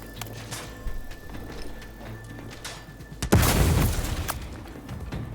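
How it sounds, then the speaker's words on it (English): Grenade explosions during a firefight in the video game The Outer Worlds 2: scattered muffled thumps and crackles, then one loud close blast that rumbles on for about a second before fading back to background battle noise. "Stop throwing grenades at me."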